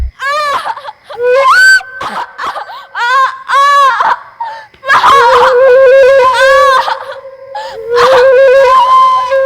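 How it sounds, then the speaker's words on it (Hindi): A young girl screams and wails in a tense crime drama, long piercing cries rising and breaking into sobbing whimpers, loud and close, with repeated anguished bursts and no clear speech. "उसकी चीखों की आवाजें सुनाई दे रही।"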